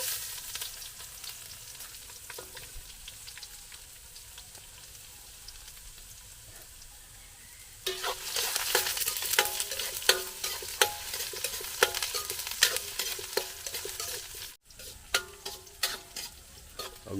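Ginger sizzling and being stirred in a hot pan during farm cooking of chicken tinutungan, a quiet low crackle that jumps into loud, busy frying with frequent stirring scrapes partway through.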